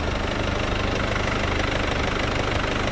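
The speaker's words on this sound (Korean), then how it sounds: "엔진 소리 일정합니다" A Mercedes-Benz C220 BlueTEC diesel engine idles steadily and evenly with a low rumbling drone and faint rattling vibration, constant and close, with no voices.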